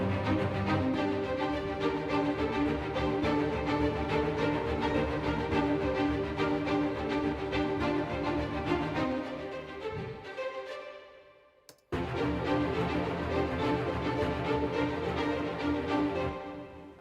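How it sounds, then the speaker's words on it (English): Short string section from an orchestral sample template playing a dense, continuous passage of quick bowed notes, cutting off briefly before resuming, with no voices. "short strings together sound like this."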